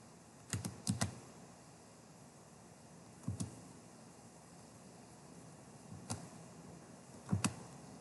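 Typing on a computer keyboard while entering a field name in a database program: a few short bursts of crisp key clicks, two or three strokes at a time, with quiet pauses between them.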